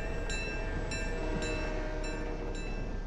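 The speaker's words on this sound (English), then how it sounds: "Come on, the train's coming quick." A train approaching in the video game Fortnite, heard as a low continuous rumble under repeated bright tonal horn-like blasts at a steady rhythm, fairly faint and without talk.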